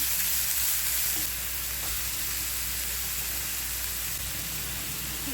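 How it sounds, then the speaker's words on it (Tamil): Onion with ginger garlic paste sautés in oil, a steady broadband frying hiss, close and even throughout, with faint stirring underneath. "வெங்காயம் போட்டுடலாம். நல்லா வதக்கி விட்டுக்கிறேன்."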